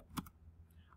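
A single close keystroke cluster on a computer keyboard, one soft click then a faint second tap, quiet and brief.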